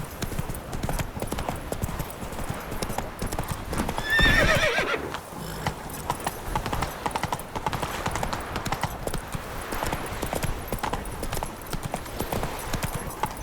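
Roach, a horse in The Witcher 3 video game, gallops with steady clip-clop hoofbeats throughout and lets out a loud whinny partway through, under a busy game soundscape.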